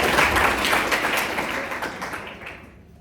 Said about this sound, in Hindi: ताली बजाने का मन है तो बहुत जोर से